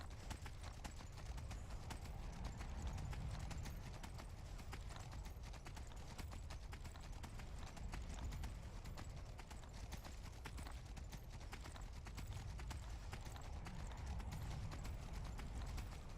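Horse hooves in Skyrim, a steady, fast clip-clop of galloping that runs continuously under a low rumble of game ambience.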